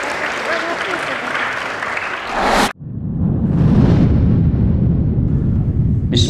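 A crowd applauds at a religious talk, with loud, dense clapping for a few seconds before it cuts off abruptly, followed by a deep, rumbling low-pitched wash.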